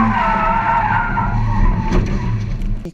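A Mazda RX8 drifts with loud, sustained tyre squeal and skidding over a steady engine drone, close and continuous throughout.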